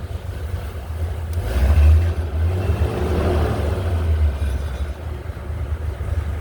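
A Bentley Boattail's engine idles after a cold start, a steady low rumble that swells briefly early on, then settles into a slightly rough, continuous drone without talk.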